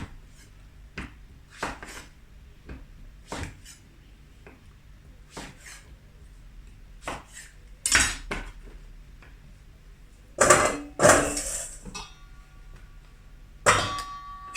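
Knife cutting a butternut into rounds on a board, giving sharp, sparse knocks and clacks spaced irregularly, with a few louder clattering hits near the end, no talking.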